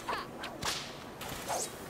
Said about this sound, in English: Does Liam know about the whip alt attack